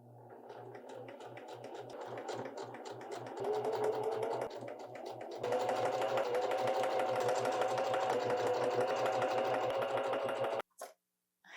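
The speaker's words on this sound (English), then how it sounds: "let me just sew the sleeves on here." A sewing machine runs steadily while stitching sleeves onto a top, a continuous mid-pitched mechanical whir that grows louder partway through, then stops abruptly with a couple of short clicks at the end.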